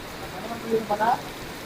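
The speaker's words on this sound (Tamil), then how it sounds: "நல்ல மழை பிடிச்சிருச்சுங்க" Heavy rain falls as a steady, even hiss throughout, with a brief, faint voice-like sound rising over it near the middle.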